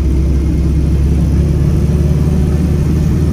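Austin 7 car engine pulling under load, a steady low mechanical drone with an even rumble, close and continuous with no voices.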